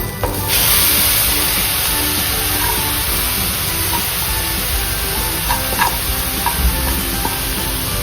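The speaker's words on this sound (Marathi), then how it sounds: "मी ह्या गाजरच्या हलव्याला शालो फ्राय करते। त्याचा कलर चेंज होईपर्यंत आपण त्याला थोडं मिक्स करूयात" Grated carrots shallow-frying in a pan for carrot halwa, a steady close sizzle running throughout with occasional scraping stir strokes and faint clinks, no talking.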